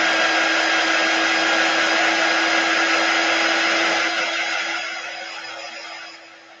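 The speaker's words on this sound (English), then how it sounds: "let's dry that. If I can find my dryer." A hair dryer blows with a loud, steady whooshing roar and a constant hum, then fades as the airflow winds down near the end.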